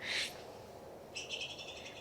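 A toy bird chirps indoors, one short high trill, a pause, then a longer run of rapid repeated chirps, fairly faint against a quiet room.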